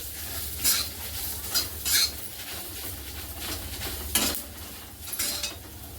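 Dry red chillies and whole spices roasting in a pan, a light crackling sizzle under repeated scraping strokes of a spoon against the metal, steady and close.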